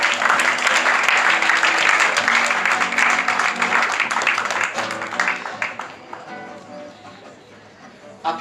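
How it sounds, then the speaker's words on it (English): An audience at a mentalist's stage show applauds three volunteers with dense, steady applause that starts loud, then thins and fades toward the end. "Warm round of applause for these three"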